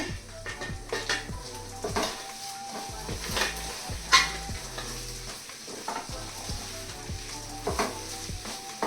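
Raw cashews for a curry cook in oil in a pan, sizzling steadily while a utensil stirs and clinks against the metal in a busy, close rhythm.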